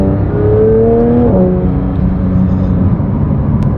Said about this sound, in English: we're going to open it up a little bit just so you can get a sense of that engine again